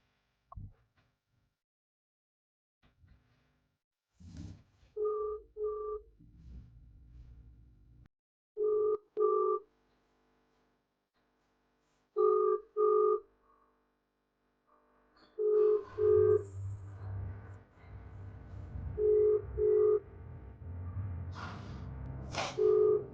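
An outgoing phone video call ringing unanswered, repeated paired ringback tones with gaps between them, clear and close, followed by a steadier muffled background hum toward the end.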